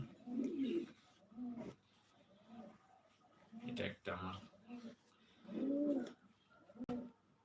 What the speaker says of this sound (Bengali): সাথে যে মাদি কবুতরটা আমি পেয়ারিং করছি